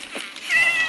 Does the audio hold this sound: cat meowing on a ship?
yes